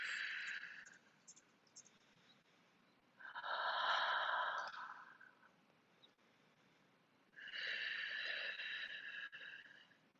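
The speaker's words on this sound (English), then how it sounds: "Breathe." Slow, deep breaths during a morning yoga stretch, heard as two long, close breathing sounds with a quiet pause between them.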